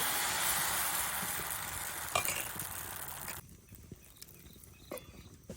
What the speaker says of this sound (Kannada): ಕಾವಳಿ ಸರಿಯಾಗಿ ಬಿಸಿ ಆದ ನಂತರ ಹಿಟ್ಟನ್ನು ಹಾಕಿದರೆ ಆಯಿತು